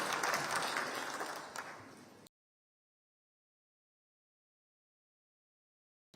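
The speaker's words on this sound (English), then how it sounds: "A round of applause as he comes to address us" Audience applause at PBO Week 2026 at KICC, Nairobi, for the WWF chief executive as he comes up to speak; loud, dense clapping fades over about two seconds and then cuts to silence.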